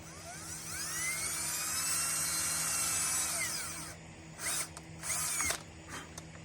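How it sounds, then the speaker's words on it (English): A power drill bores a shallow pilot hole into rattan, a steady high whine for about four seconds, then winds down before two short bursts as the trigger is squeezed again; close and clear, with no talk. "let me drill it first, and then I'll show you guys."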